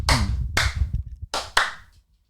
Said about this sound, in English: 1, 2, 3, clap, clap.